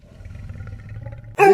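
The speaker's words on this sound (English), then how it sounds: "It's a tiger." A tiger gives a low, rumbling growl that builds quietly for over a second, then breaks into a sudden loud, harsh roar at the very end.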